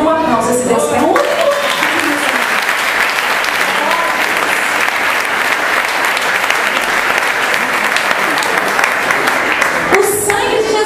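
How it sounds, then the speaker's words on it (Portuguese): Sustained congregation applause fills a church during a Portuguese-language worship service, dense and steady for about ten seconds, with voices rising briefly at the start and end. "Dê uma aplauso a esse Deus que é único."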